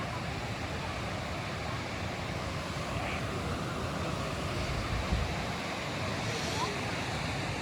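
A waterfall in Ooty in the Nilgiris hills rushes in a steady, broad roar of falling water, continuous and even with no voices.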